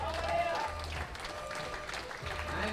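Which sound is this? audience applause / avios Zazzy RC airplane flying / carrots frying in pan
audience applause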